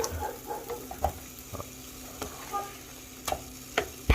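Food is stirred and scraped in a skillet with a spatula. Scattered knocks and scrapes come at irregular intervals over a faint, low sizzle.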